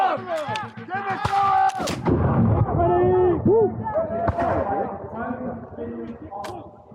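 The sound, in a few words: cannon fired with a double load at battle reenactment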